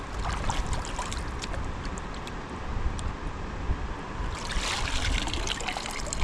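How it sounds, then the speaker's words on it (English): A sieve of gravel and garnets rocked and pulsed in water at a gemstone mine, giving a steady sloshing, trickling wash that swells louder toward the end. "the rocking and pulsing in the water like that brings all the heavy garnets down to the bottom of the sieve"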